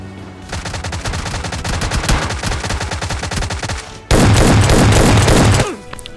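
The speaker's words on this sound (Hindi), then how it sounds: "पता नहीं दो तीन गोली चलाई उसने" Gunfire in the mobile game BGMI Lite: rapid automatic bursts crack in a dense, even rhythm for several seconds, then a louder, harsher volley of close shots before stopping abruptly.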